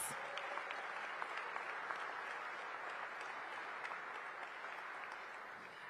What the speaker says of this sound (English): Let's give Ted and Monumental Sports a big round of applause.